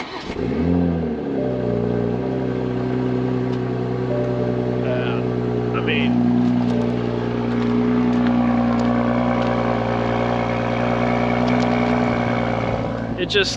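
A stock Toyota Supra Mark IV's 2JZ straight-six turbo engine idles with a deep exhaust rumble, then revs up and holds, loud and close, while someone talks briefly over it.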